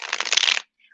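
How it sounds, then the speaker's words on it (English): A quick riffle of playing cards being shuffled, a single short burst close to the microphone, followed by a faint tap. "Just a couple more shuffles."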